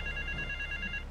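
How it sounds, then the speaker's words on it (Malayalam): A pay phone rings in the video game GTA 3, a close, electronic warbling ring that repeats rapidly for about a second and then stops. "പേ ഫോൺ അടിക്കുമ്പോൾ പേ ഫോൺ വിറക്കുന്നതാണ്ടോ"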